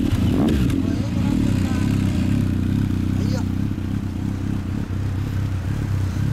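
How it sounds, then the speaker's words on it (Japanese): A CB1100 motorcycle with an all-titanium Ryujin exhaust idles loudly and close, with a deep steady rumble throughout, and a few faint voices briefly heard over it. "こっちからエンジン音聞かせてもらえる？"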